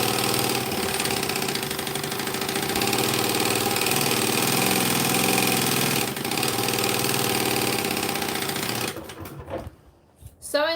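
A sewing machine running flat out while speed sewing a seam on a garment, with a loud steady mechanical whir that holds for about nine seconds, then stops and gives way to a voice.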